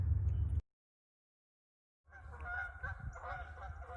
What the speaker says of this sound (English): Oh, do you hear those geese?